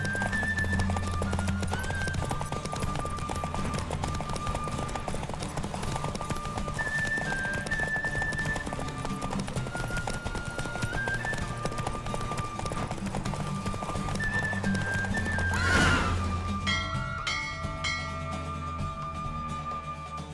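Hooves pound in a fast, continuous gallop during a horse race in Witcher 3, with brief whinnies and game music beneath, and a sudden louder burst near the end before the hoofbeats fade.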